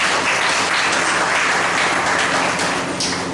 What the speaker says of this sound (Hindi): और यीशु मसीह की एक बार यीशु के लिए ताली बजाएंगे।